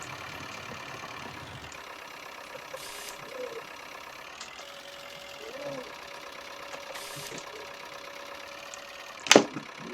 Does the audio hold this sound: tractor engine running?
yes